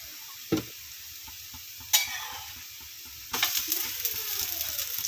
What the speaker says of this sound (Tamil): லைட்டாக நல்லெண்ணெய் சேர்த்துட்டோம்னா அந்த நல்லெண்ணெயிலே வேகும்